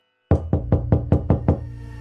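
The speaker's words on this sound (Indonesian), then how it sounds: "terdengar lagi suara ketukan dari luar" Knocking on a door from outside: six firm, evenly spaced raps at a steady rhythm, loud and close, with no voices.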